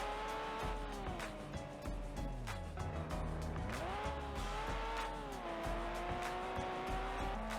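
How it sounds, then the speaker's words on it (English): Race cars in the racing game Overspeed Championship drift with engines roaring and revving up and down, tires squealing through a slide, loud and continuous with rising and falling engine pitch. "Take a gander at that drift, yo."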